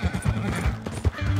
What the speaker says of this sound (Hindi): तेरे घोड़ा कितना स्लो है भाई